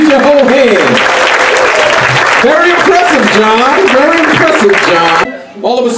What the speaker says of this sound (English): Keep your hands clapping to Mr. John Gallagher, y'all.